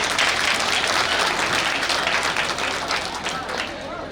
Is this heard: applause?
yes